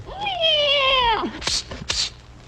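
A single drawn-out meow, loud and close, rising then sliding down, followed by a couple of short rustling clicks.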